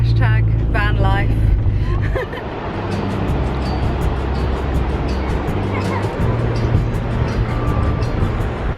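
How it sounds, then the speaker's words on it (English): A campervan engine with a faulty exhaust rumbles loudly and steadily up close, a rough low drone with brief chirping sounds at the start and background voices. "Something's gone wrong with our exhaust."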